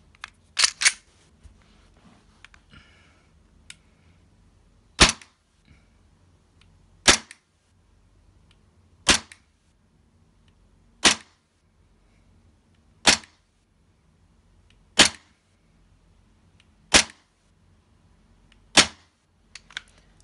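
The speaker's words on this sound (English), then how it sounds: "Next, Glock 19 by WeTech, green gas pistol." A WeTech Glock 19 green gas airsoft pistol fires over a chronograph: a few quick shots at first, then eight sharp, loud single cracks spaced about two seconds apart, with near silence between them.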